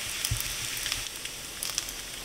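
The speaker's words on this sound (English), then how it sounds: "I'm turning the bacon over so the other side gets done, but I have to cook it slowly" Bacon fries slowly in a pan with a soft, even hiss of sizzling grease and a few faint pops, no one speaking.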